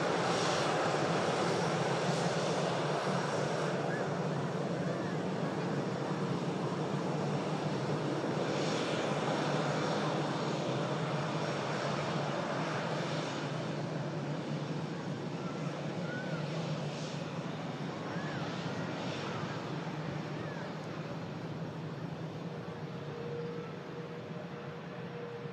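An Air Transat Airbus A330 airliner coming in to land, its engines roaring loud and steady for the whole stretch before easing slightly toward the end.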